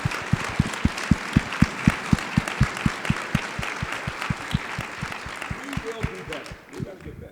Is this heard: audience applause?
yes